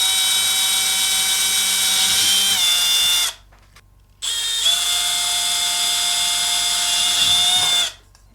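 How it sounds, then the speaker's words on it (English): A power drill bores holes into a plastic Spidey toy, two loud, close whining bursts of about three seconds each separated by a brief pause. "I'm going to get a drill bit with the same size diameter of my headphone jack wire, and I'm going to go ahead and drill those two holes."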